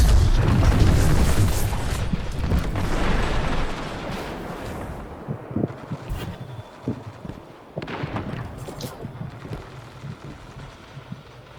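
Grenade blast in a first-person shooter game, a heavy booming rumble at the start that slowly decays, followed by scattered sharp gunfire pops and clicks at moderate distance.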